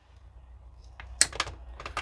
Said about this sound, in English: First, we're going to cut it. That's what these cutters were for.